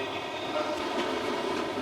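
A passenger train rolls steadily along the line toward Fukushima, a loud continuous rumble of wheels and carriage noise heard from inside with no talk.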